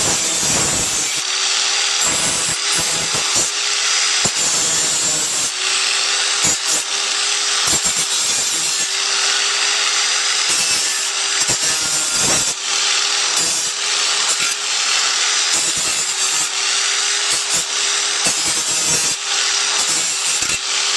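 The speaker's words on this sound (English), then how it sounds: "we're going to use an angle grinder with a sanding disc to remove any burrs, sharp edges" An angle grinder fitted with a sanding disc smooths burrs and sharp edges off a cut metal motorcycle fender in a bike shop, giving a loud, continuous abrasive rasp with a steady whine, broken by brief pauses and lifts throughout.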